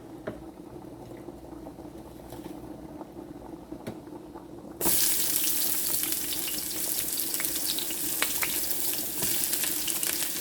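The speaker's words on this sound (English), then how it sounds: "here in my cooking pot, I am going to saute white onion and red onion" White and red onion sautéing in a cooking pot, a soft low sizzle that jumps abruptly into a louder, steady crackling fry partway through and holds there without any voices.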